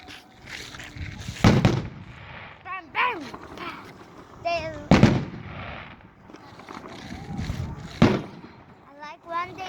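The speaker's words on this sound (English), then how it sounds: "I like when they do a couple of them together." Fireworks at a 2022 Tehachapi display burst in three loud booms a few seconds apart, followed by crackle, as spectators chatter over the show.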